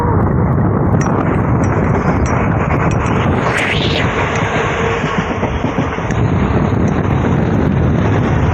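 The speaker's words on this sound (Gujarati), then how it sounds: "પવન બહુ જોરદાર ચાલે છે" Strong wind buffets the microphone on a train running from Tirunelveli to Kanyakumari, a loud continuous rushing roar layered over the rumble of the moving rail cars.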